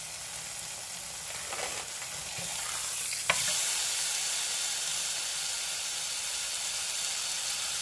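Ham fries in a very hot pan with drippings, giving a steady, close sizzle and hiss that carries on without a break, and one brief louder crackle partway through.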